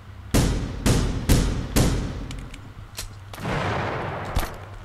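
A burst of sharp gunshots in The Final Station video game, four loud evenly spaced cracks followed by fainter scattered shots and rumbling echoes.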